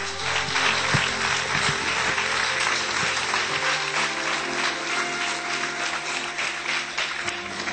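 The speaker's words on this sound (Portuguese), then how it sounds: "Você pode aplaudir teu Senhor." Congregation in a church applauding their Lord during a Portuguese-language sermon, steady dense clapping filling the whole stretch at moderate loudness, with a low sustained tone underneath and no talk.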